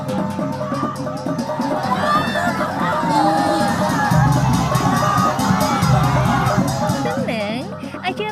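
A crowd at a traditional coming-of-age ceremony shouts and cheers hysterically, a dense, loud wall of excited voices and high shrieks, with individual voices rising through the babble throughout.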